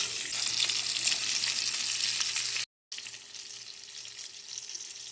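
Meatballs browning in a covered pan, a steady soft sizzle and crackle of frying fat broken by one brief silent gap, with a low constant hum underneath.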